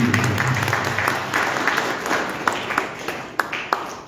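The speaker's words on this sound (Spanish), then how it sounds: "Un aplauso para nuestro amigo Héctor." Audience applause at a book presentation in Arequipa, a room of steady clapping that gradually thins into scattered individual claps at the end.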